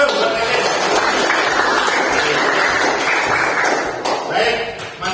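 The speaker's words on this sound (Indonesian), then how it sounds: "Tepuk tangan dong buat kalian." Students applauding together in a classroom, a steady mid-level wash of clapping with some thumps and taps, fading slightly near the end.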